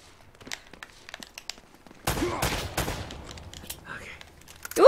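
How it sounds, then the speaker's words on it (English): Gunfire in the video game Uncharted, scattered faint shots followed by a denser burst of crackling fire and debris, with quieter pops continuing and a sharp loud hit at the end. "Seem to be getting shot at."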